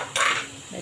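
Capsicum being stirred in a pan for a spicy zunka, with a spoon scraping and clinking against the metal for a short burst, then quieter rustling.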